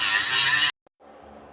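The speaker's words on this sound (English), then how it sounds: "We're just going to grind down the square nuts here." An angle grinder cuts down rusted square nuts on the exhaust flange of a 2015 Toyota Sienna AWD 3.5. A loud, harsh burst cuts off abruptly, followed by a softer, lower whir.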